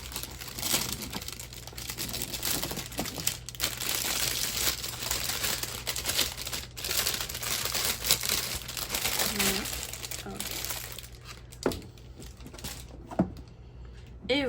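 Diamond painting kit package being opened, with steady crinkling and rustling of plastic wrapping and cardboard close by, broken by a few sharper tearing snaps toward the end.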